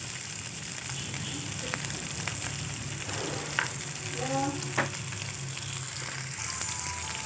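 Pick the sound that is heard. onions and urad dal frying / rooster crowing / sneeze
onions and urad dal frying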